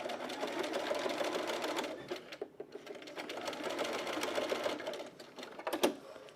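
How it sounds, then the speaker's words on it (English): A sewing machine runs a 3-step zigzag stitch on bralette fabric, a steady close mechanical whirr that pauses briefly near the middle and then resumes, with no talk over it. "I love 3-step zigzag."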